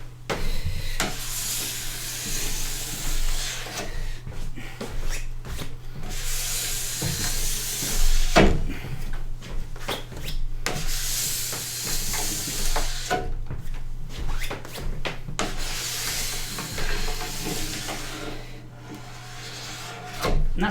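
Hot wax scraped off a snowboard base, long rasping strokes repeated in a slow rhythm close by, each pass a loud drawn-out scrape separated by short pauses, with a low steady hum underneath.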